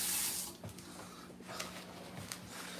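A kitchen tap runs water in a short, soft stream into a sink, fairly quiet and close.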